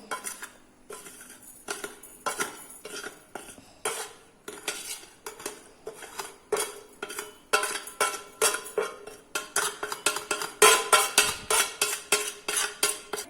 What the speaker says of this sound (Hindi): अब मैंने सारे मसाले इस जार में डाल दिया है।